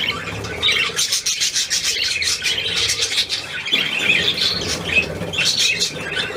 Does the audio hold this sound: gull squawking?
yes